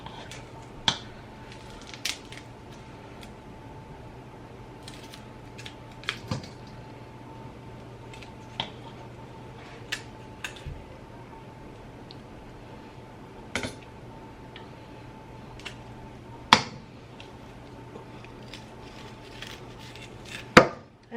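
A kitchen knife cuts food on a board in sparse, isolated chops, each a crisp tap separated by several seconds of quiet, with a faint steady background hum throughout.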